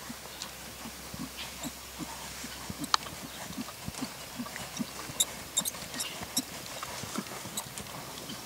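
A bay Lusitano stallion's hooves clip-clop in an irregular, moderately close rhythm, with faint background noise and a few sharper knocks.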